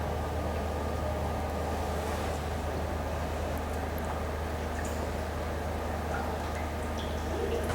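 Cooling water runs steadily through the condenser of a laboratory distillation setup, a continuous low wash of flowing liquid with faint trickling, unchanging across the whole stretch.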